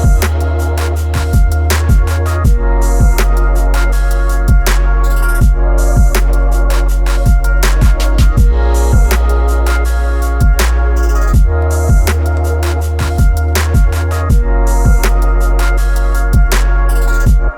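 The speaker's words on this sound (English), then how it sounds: "it's a hip-hop beat, but all the sounds are actually inspired from electronic sounds" A loud, steady hip-hop beat built entirely from electronic sounds, with punchy kicks, sharp clicky percussion and sustained synth tones repeating in a tight rhythmic loop, no voices.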